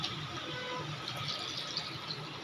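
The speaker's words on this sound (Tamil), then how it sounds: "இப்போ நம்ம தண்ணி சேர்த்துடலாம்." Water pours steadily into a pan of chicken gravy, a soft continuous splashing stream heard close up and fairly quiet, with no talking.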